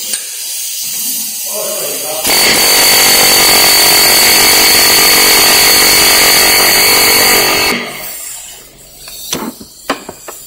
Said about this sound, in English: get an air hammer for that